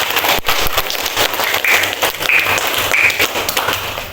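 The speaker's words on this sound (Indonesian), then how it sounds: "Luar biasa, tepuk tangan." Students in an elementary school classroom applaud steadily for about four seconds, a dense, fairly loud clatter of many hands with a few brighter shouts or squeals rising above it.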